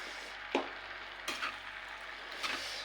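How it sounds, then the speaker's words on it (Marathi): Safflower greens mixed with soaked moong dal are stirred in a pan. The sound is quiet: a faint background hiss broken by three soft spoon scrapes spaced about a second apart, and no talking. "आता ही पण आपल्याला मिक्स करून घ्यायचे"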